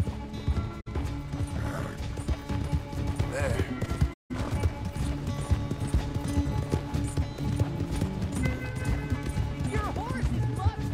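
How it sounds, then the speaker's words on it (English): Horse hooves galloping and clip-clopping in the video game Red Dead Redemption II, a steady, fast drumming rhythm that runs almost the whole time under a busy game score, with people talking over it. "Your horse is much bigger!"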